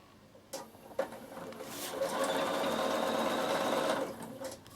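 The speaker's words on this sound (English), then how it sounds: "And you're going to just sew up the seam, leave an opening there." A Bernina sewing machine stitches a seam in a steady, close-up mechanical whir that starts after a short tap, runs evenly for a few seconds and then stops, with no talking.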